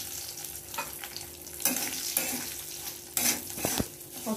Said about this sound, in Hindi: और सूजी को आपको भूनना है तेज पत्ते के साथ।